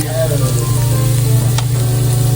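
Garlic frying in a pan during home cooking, a steady close sizzle with a strong low hum running underneath throughout.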